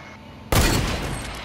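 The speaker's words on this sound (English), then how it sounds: "Yes, go hunting rifle shots, yes." A single loud gunshot from a hunting rifle in the video game Fortnite Battle Royale cracks out abruptly after a quiet moment, followed by a lingering, slowly fading echo.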